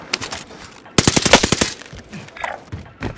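Rapid automatic gunfire in the video game Call of Duty Warzone, a loud burst of closely spaced shots in the middle, with scattered softer shots and game noise before and after.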